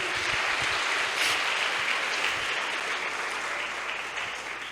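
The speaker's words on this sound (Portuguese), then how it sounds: "Vamos aplaudi-lo por isso, queridos?" A church congregation applauds during a Portuguese-language sermon, a dense, steady wash of many hands clapping that fills the whole stretch and tapers slightly toward the end, with no voices on top.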